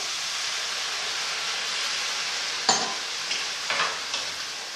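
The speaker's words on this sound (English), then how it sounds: "we can deglaze our pan with a little bit of dry white wine" Dry white wine hits a hot risotto pan of translucent rice, giving a steady broad sizzle with a few sharper crackling bursts near the end, close and continuous with no talk.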